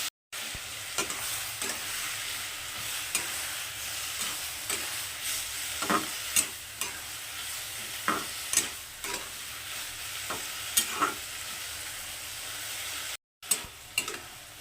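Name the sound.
frying in a pan for a lentil, egg and potato dish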